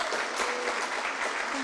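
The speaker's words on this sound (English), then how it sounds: "Can we give one more round of applause to our last?" Audience applause at a school prizegiving, a steady dense wash of many hands clapping throughout at an even, moderately loud level.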